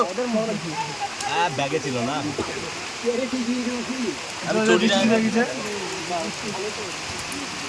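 Steady rain hisses in the background while people talk loudly nearby over it.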